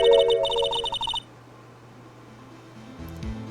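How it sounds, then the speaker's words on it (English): A telephone rings in the Phoenix Wright Ace Attorney video game, a rapid electronic trill in short repeated bursts over a low game tone, then it cuts off and a quieter hum carries on with no voices. "I received these orders from Chief Gaunt, the first thing I did was make a phone call."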